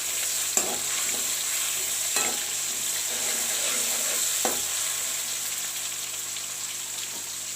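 Koftas sizzle and fry steadily in a pan over a slow flame, a continuous close hiss broken by a few soft clinks of a utensil, with no voices.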